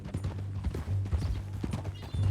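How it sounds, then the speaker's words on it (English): Horse hooves clip-clop steadily on the ground in the Red Dead Redemption 2 video game, a moderately close, even rhythm over a low rumbling backdrop with no talk. "That a new horse?"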